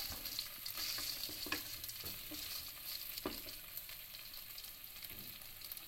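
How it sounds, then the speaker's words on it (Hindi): Roasted chicken is stirred in a hot pan: a quiet, continuous sizzle is broken by a few sharp scrapes and clicks of the spoon against the metal, with no voices. "और इसमें अच्छे से मिक्स कर देंगे।"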